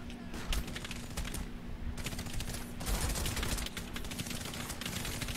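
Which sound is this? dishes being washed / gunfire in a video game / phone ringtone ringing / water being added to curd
gunfire in a video game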